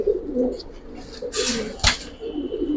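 Silver Giribaz and Pankhi pigeons coo softly in a loft on a rainy day. A few bursts of rustling or flapping come in the middle, and people talk in the background.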